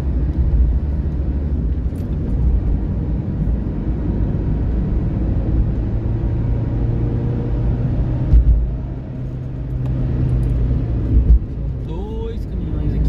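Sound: two trucks passing at night, flatbed carrying Valmet tractor

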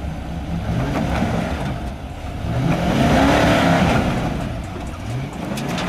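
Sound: Infiniti SUV engine revving off-road

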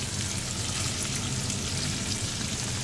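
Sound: dragon shrimp sizzling as it cooks in the oven

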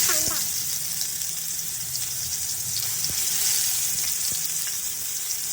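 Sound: onion frying in a pan

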